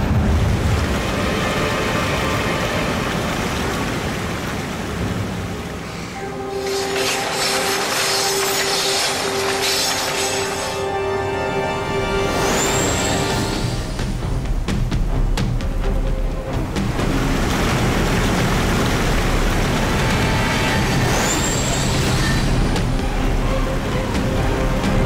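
A cartoon train runs with a steady, loud, full-bodied rumble that lasts throughout, with a couple of brief high squealing sweeps partway through.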